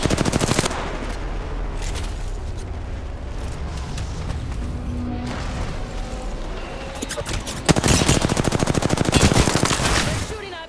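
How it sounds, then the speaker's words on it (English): Enemy gunfire in the video game Apex Legends, with bursts of rapid shots crackling throughout and a louder, denser volley near the end, plus low booming beneath. "They're shooting at me."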